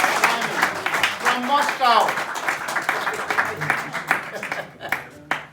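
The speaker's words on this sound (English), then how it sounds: "Big applause." Audience applause at a business talk, with moderate clapping that continues for several seconds while someone speaks over it before the clapping thins out.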